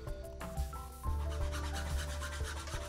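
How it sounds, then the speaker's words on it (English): Large metal file rasping across a carved wooden handgrip's knuckles, a quiet close scraping rub repeated in short strokes over a faint steady hum. "I took this large metal file and just started working away at each of the knuckles."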